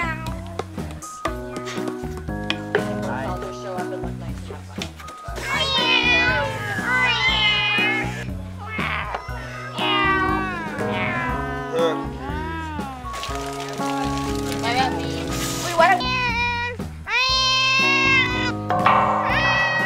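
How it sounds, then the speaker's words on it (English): Several cats meow over and over, with long drawn-out, rising and falling cries that are loud and close, sometimes overlapping, heard continuously for the whole stretch. "Cats, saving the Earth one meow at a time."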